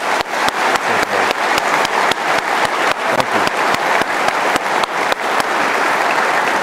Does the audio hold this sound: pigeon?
no